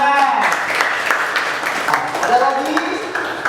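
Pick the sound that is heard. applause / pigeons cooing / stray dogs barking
applause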